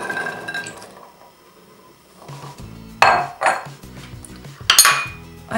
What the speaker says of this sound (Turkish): Güvecimizin içerisine nohutumuzu boşaltalım.